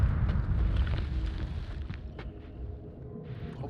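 A bomb in the video game Noita goes off with a loud, deep rumbling blast that rolls on and slowly fades, with crackling bursts scattered through the tail.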